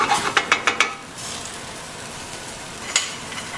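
Shrimp scampi sauce sizzles and reduces in a hot pan, a steady hiss opening with several quick metallic clinks of a utensil against the pan, then a couple more taps later.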